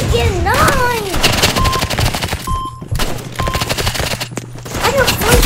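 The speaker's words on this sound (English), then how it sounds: "there's a shotgun spammer" Rapid shotgun blasts in the video game Marvel Rivals, dense repeated firing under heavy game effects and sweeping tones, continuous and loud throughout.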